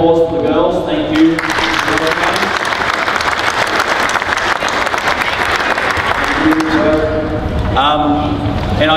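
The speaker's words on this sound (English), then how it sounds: "So round of applause for the girls." A basketball coaching clinic crowd gives a loud round of applause for the girls' team. The clapping is dense and sustained, with a voice speaking over it at the start and again near the end.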